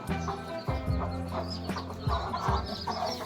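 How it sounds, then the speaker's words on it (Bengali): Two hens with freshly hatched chicks cluck and squawk agitatedly close by, continuous busy clucking over a dense farmyard background. "এই দেখছো দুটো মুরগি।"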